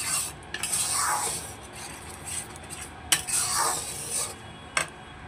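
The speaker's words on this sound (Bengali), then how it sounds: "মশলার সাথে ভালো করে এগুলোকে মিশিয়ে দেবো।" Spiced food in a pan being stirred and mixed, with repeated scraping sweeps of a utensil across the metal, a few sharp clinks against the rim and faint sizzling between strokes; no speech.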